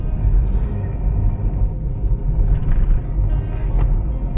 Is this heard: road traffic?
yes